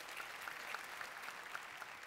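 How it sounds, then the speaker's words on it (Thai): A TV studio audience at a Thai variety show claps steadily, a faint, even patter of many hands that fills the whole moment without talk. "ขอเสียงปรบมือ"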